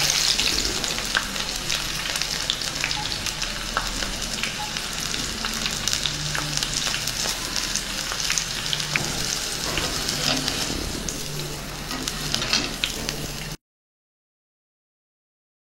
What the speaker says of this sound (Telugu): ఇప్పుడు వెల్లుల్లిపాయలు కూడా వేసి వేయించుకుందాం.